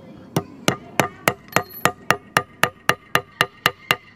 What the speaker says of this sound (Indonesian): Coba kalau pakai palu.